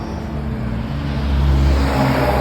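A car pulls away from the roadside on a toll road, its engine a steady low rumble that swells slightly as it accelerates, fairly loud and without voices.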